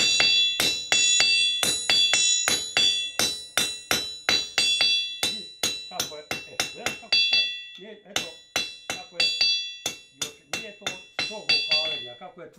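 A hand hammer strikes metal over and over in a steady, rapid rhythm of sharp, ringing blows. The pace is briefly broken partway through, and faint voices are heard in the background.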